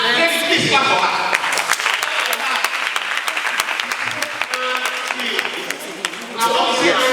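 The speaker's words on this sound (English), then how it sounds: "please clap for her." A lecture audience at a postgraduate celebration breaks into sustained, loud applause for a student, dense clapping throughout with a voice speaking over the start and end.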